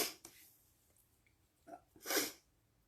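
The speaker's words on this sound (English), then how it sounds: "Excuse me while I blow my nose" A person blows their nose with a few short nasal bursts, the last one loudest and longest, and no talking between them.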